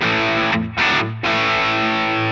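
Crunchy distorted electric guitar played through a Tonex amp capture, loud chords ringing out with a brief dip and restrike near the middle, no talking.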